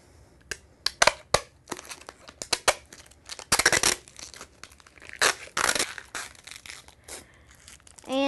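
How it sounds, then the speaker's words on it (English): Protective film being peeled off sublimation substrates for a mantle clock project, giving a run of sharp, crackly tearing and crinkling bursts at irregular intervals, close and fairly loud, with no talking. "remove the protective film on each one of your substrates"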